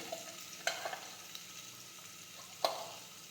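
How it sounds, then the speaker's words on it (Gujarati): Spices go into hot oil for a ridge gourd and potato curry, with a faint steady sizzle and two sharp clinks of a spoon on the pan, close and quiet. "હવે આપણે બધા મસાલા છે તે નાખી દઈશું"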